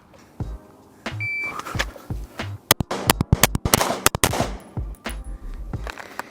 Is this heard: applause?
no